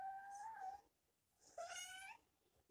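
A domestic cat meows twice, with a short silent gap between the calls. The first is a drawn-out meow and the second is louder and rises in pitch, both fairly close.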